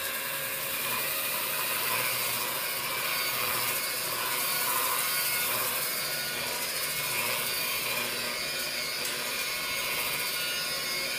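A marble polishing machine with 400-grit pads runs at a higher speed over waxed marble, giving a steady, loud whirring and grinding drone that holds unbroken for the whole stretch with no talking.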